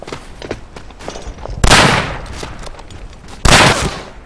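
Rifle shots in the World War I shooter Verdun, played in a rifle deathmatch mode: two loud, sharp reports a couple of seconds apart, each with a decaying tail, over softer distant battle noise.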